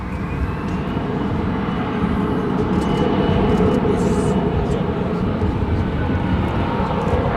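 A jet airliner roars steadily on takeoff from runway 18 left at Dallas Fort Worth airport, a broad, constant engine rush that holds loud throughout with no break.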